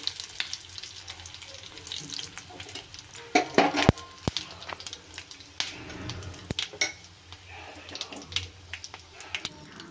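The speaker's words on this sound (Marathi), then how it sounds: "इथे कढईमध्ये मी तेल घातलं आहे. त्याच्यात अर्धा चमचा जिरे आणि अर्धा चमचा मोहरी आणि थोडासा लसूण ठेचून घातलाय" Cumin, mustard seeds and crushed garlic sizzle in hot oil in a kadhai, a soft steady crackle broken by sharp pops, spluttering bursts and clinks of a spoon stirring against the pan.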